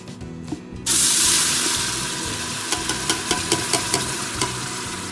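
Kabsa mixture drops into hot olive oil and bursts into a loud, bright sizzle that settles into steady frying, punctuated by a run of sharp clicks from stirring against the pan.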